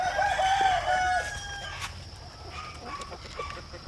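A rooster crows loudly at the start while chickens being fed whole corn cluck more quietly afterward, all against a low outdoor background.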